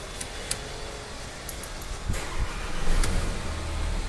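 Mercedes CLA 200 car engine after a full service, starting up and idling with a low steady rumble, growing somewhat louder toward the end, with no talk.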